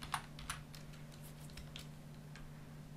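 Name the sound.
typing on a computer keyboard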